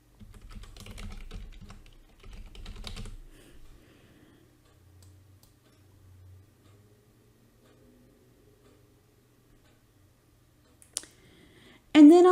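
Keys clatter on a computer keyboard as administrator credentials are typed during a SQL Server 2022 installation, two short bursts of close typing at the start, then near silence with a few faint clicks.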